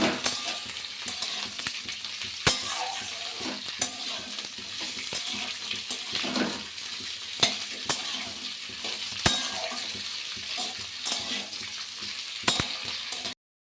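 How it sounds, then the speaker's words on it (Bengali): Beans and radish roots fry and are stirred together in a pan, a steady crackling sizzle broken by sharp metallic clinks and scrapes of the utensil against the pan at irregular intervals. "এবার আমি শিমগুলো দিয়ে দিলাম আর মূলোর গোড়াগুলো দিয়ে দিলাম, দিয়ে সবগুলো একসাথে ভালো করে নাড়ি।"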